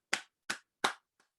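At a charity event, the audience claps in response to a request: three sharp, evenly spaced claps close together followed by a fourth much fainter one, isolated against silence.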